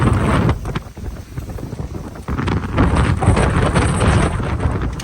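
Strong storm wind tearing through a lemon garden in Sialkot, loud gusts buffeting the microphone in heavy, rumbling waves with a brief lull before surging back.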